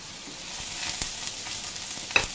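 Ampalaya (bitter gourd) fries in a pan with a steady close sizzle and a few quick stirring clicks and scrapes, with no talk.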